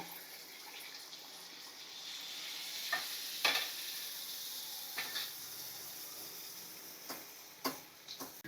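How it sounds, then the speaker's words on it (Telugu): Jaggery pongadalu batter hits hot oil and fries with a soft, continuous sizzle, broken by scattered crackling pops and small splashy bursts. "ఈ గరిటె పిండిని మధ్యలో ఇలా పోసేసుకోవాలండి"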